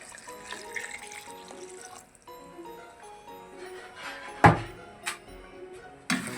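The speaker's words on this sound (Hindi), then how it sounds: "अब मैं इसके अंदर शामिल कर रहा हूँ 5 लीटर दूध।" Five litres of milk pour into a pot of cooked carrots for halwa, making a soft, continuous liquid splashing with small drips, followed by a few sharp clanks of the pot near the end.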